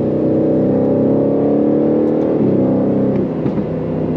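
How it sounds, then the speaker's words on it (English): The exhaust of a 2022 Aston Martin Vantage F1 Edition roars loud and steady from inside the car, a dense engine drone that eases off near the end as a couple of faint pops come through. "Oh, that backfiring exhaust"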